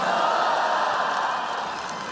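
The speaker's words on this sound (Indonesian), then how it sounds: "saudara harus tepuk tangan yang kuat" Crowd cheering and applauding at an Indonesian public gathering with a religious speaker, a dense, steady roar of voices and clapping that fills the whole moment and eases off slightly toward the end.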